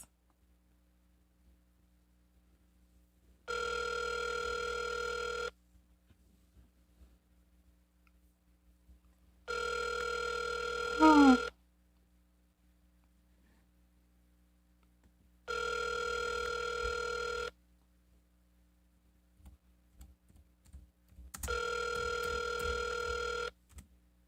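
An outgoing call on a live call-in radio show rings four times: even electronic ringback bursts of about two seconds each, separated by several seconds of near silence.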